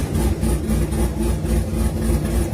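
A car engine idles while warming up, a loud, close, steady low rumble with an even pulsing throb and no voices.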